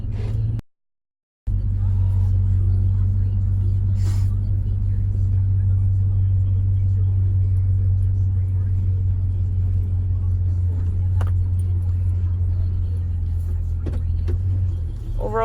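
A 2004 GMC Sierra 1500 SLT pickup with the Z71 off-road package drives through a neighborhood, its engine holding a steady, loud low rumble from close inside the cab after a brief cut at the start.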